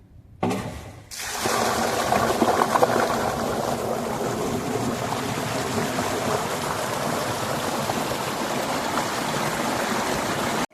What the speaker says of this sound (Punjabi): ਚੱਲ ਪਈ ਮੋਟਰ ਬਈ